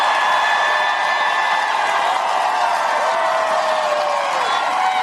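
A large crowd cheers and whoops steadily throughout, a dense wash of voices at a political rally for a presidential candidate announcement, with no gaps or pauses.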